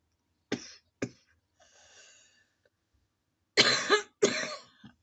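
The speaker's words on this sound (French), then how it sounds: "Je sais, je tousse beaucoup" Several harsh, close coughs come in short bursts separated by silence, with a faint breathy sound between them.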